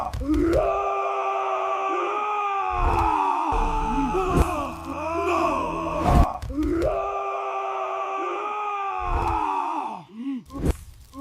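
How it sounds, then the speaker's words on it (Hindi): Half-dead demons screaming as they flee in a Sunderkand retelling: drawn-out, wavering cries and groans layered into an anguished chorus, rising and falling in long swells with brief gasping breaks and thumps between them. "कुछ जो अधमरे थे चिल्लाते हुए गए।"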